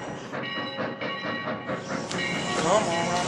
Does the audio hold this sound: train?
yes